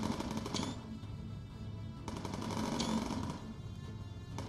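Machine gun fire from a bomber's gunner during a World War II mission in the Bomber Crew video game, rapid bursts repeating in close succession over a droning engine background, with no voices.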